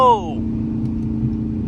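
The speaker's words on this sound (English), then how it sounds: "that downshift sounded crazy, I'm not gonna lie" A Dodge Charger R/T with the 5.7 engine downshifts on a highway at 7 AM. The engine note sweeps down sharply at the start, then settles into a steady, droning cabin rumble.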